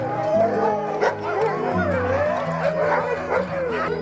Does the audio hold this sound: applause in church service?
no